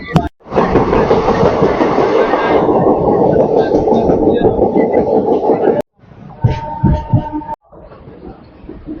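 The 75272 DEMU train runs on rails in Bihar on a foggy day, with a loud, steady rumble and clatter close by that breaks off and then resumes with rattling and clanks. Some talking can be heard behind it.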